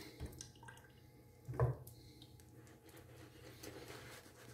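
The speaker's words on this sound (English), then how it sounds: "I'm going to add a little bit of water to this because we are kind of thick" A little water trickles into thick shaving soap, giving one soft, brief drip-like splash midway through an otherwise quiet, faint background.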